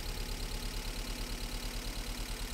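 A Toyota MR2 engine idles roughly with a steady low pulsing chug while Seafoam is drawn through a vacuum hose, sounding labored as if close to stalling.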